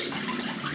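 Cold tap water running into a sink while a shave is rinsed, a steady close splashing hiss throughout a brief moment.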